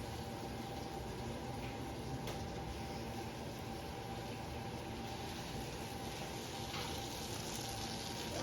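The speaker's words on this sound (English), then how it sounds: "You see the bacon start to fry?" Bacon frying in a pan, giving a steady, continuous sizzle and crackle that is close and moderately loud throughout, with no talking.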